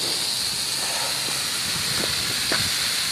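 An X hose expandable garden hose sprays water under pressure after its valve is opened, giving a steady, close, loud hiss that runs throughout with a few faint knocks underneath.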